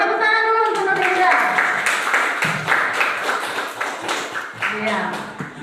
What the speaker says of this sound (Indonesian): tepuk tangan dulu untuk Nurida